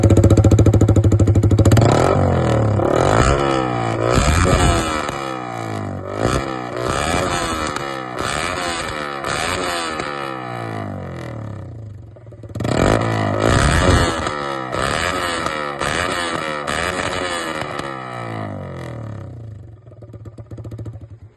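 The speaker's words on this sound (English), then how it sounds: "we're gonna do a straight pipe test of revving it" A motorcycle with a straight-pipe exhaust revs hard and very loudly in repeated bursts, the engine climbing and dropping with a raw, crackling bark, idling briefly between blips.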